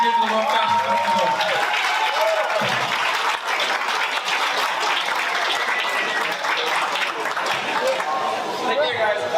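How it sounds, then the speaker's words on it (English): Sustained audience applause at a fashion festival, loud and continuous throughout with crowd chatter and scattered whoops mixed in. "So let's give a round of applause to Cesar Rowland for what he did"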